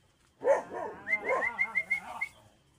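Dogs close by give a short run of yips and whimpering barks, a louder burst followed by several quick, evenly spaced high yelps over about two seconds.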